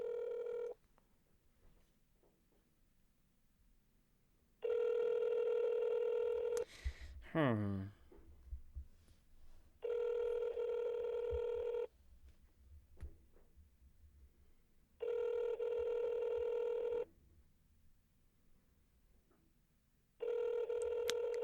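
Telephone call ringing out, with repeated long electronic ring tones separated by silent gaps and a brief descending tone in between, a faint voice talking quietly beneath.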